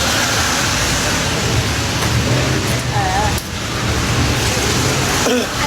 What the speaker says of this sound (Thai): จริงๆอยากอยากเดินเยอะกว่านี้อยู่แต่ฝนมันไม่ค่อยอำนวยเท่าไหร่